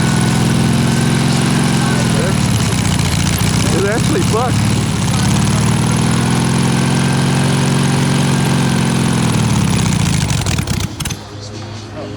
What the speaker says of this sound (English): Sounds like a Volkswagen engine